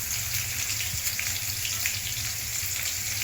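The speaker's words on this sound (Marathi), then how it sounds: "कांदा ब्राऊन होईपर्यंत भाजायचा" Onion frying in a pan for misal pav, a loud continuous sizzle and crackle close up, with no voices.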